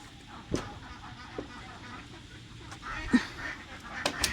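Ducks being herded into a pen on a farm, a few scattered quacks rising over a quiet outdoor background, soft and moderately distant.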